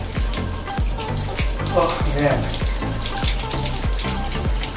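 Cold shower water pours in a steady, close rush, with a brief spoken exclamation and a low rhythmic thumping underneath.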